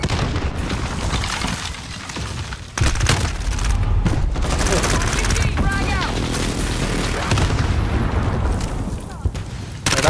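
Gunfire in a Call of Duty Modern Warfare multiplayer deathmatch: rapid automatic bursts and heavy booms come in dense waves, loud and continuous, with voices speaking underneath.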